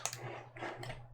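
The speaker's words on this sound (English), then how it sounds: "So let's write them by keyboard." Typing on a computer keyboard while entering Arabic letters: a short, close run of soft key clicks over a low steady hum.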